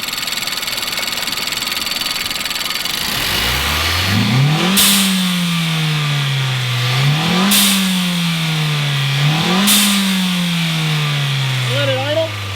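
A turbocharged Nissan Sentra with a newly installed blow-off valve is revved three times from idle, each rise ending in a sharp airy whoosh as the revs fall back, loud and close.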